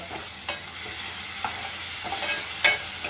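Masala fries and sizzles in a pan for a fish curry, with steady hissing broken by a few sharp scraping clinks of a spoon as it is stirred.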